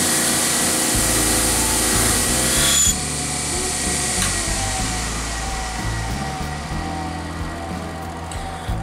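A belt sander works on a hatchet at close range, a continuous loud abrasive rasping over a motor hum, with the grinding shifting in pitch and weight as the blade is pressed and moved; no talk.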